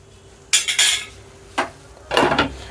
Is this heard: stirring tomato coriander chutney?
yes